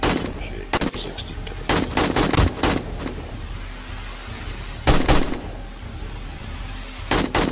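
AK rifle firing during a horde night in 7 Days to Die: loud, sharp bursts of automatic fire in separate clusters, with quieter gaps between them.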